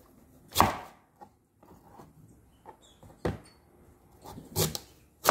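Knife chopping ingredients into cubes on a cutting board for ginataang bilo bilo, a handful of sharp, separate chops spaced irregularly with quiet gaps, the cuts near and crisp, including a double chop near the end.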